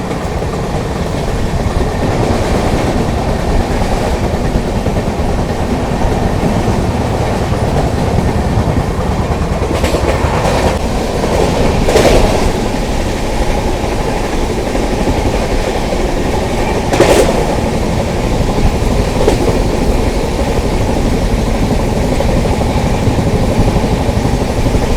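The Tamralipta Express runs on rails between Howrah and Digha, a loud continuous rumble of wheels and carriages with faint rhythmic clatter, heard alone without talk.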